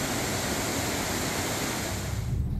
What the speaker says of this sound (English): the waterfalls cascading down the creek that provide hypnotic sounds